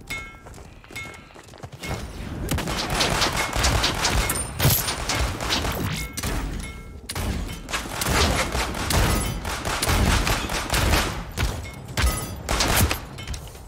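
Gunfire in the battle royale game Realm Royale rattles in dense, rapid bursts, fairly loud and continuous for most of the stretch after a quieter start.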